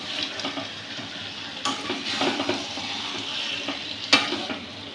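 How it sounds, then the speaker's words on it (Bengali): Pieces of raw boal fish fry and sizzle in a pan with spices while being stirred, a steady close crackle with occasional scraping knocks of the spoon against the pan. "এই যে মাছটা আমি এবার ঢেলে দিলাম।"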